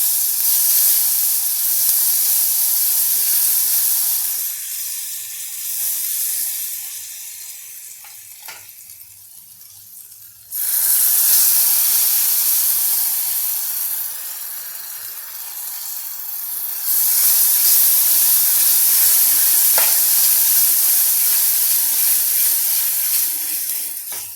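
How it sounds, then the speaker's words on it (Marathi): Green chili paste sautés in hot oil with turmeric, giving a steady loud sizzle and hiss that eases for a few seconds and then surges back twice. "ह्यामध्ये ही थोडीशी हिरव्या मिरचीची पेस्ट घालून थोडंसं हिला सातळून घेऊया"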